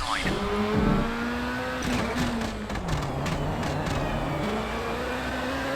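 A rally car engine revs hard in RalliSport Challenge, its pitch climbing and dropping through gear changes with brief tire and gravel noise, loud and continuous throughout.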